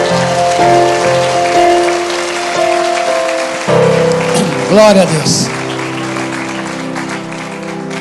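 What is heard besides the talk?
congregation applauding the Lord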